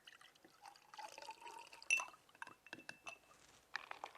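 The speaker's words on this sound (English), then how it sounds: "using a ladle, we can pour the citrus punch" Citrus punch ladled into glasses, with small splashes and pours alongside clinks of glass on glass, quiet and close, in short irregular bursts.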